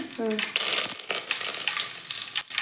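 Cumin seeds sizzling in hot oil with a little ghee, a steady close crackle and hiss with a few brief stirring clinks, no talk.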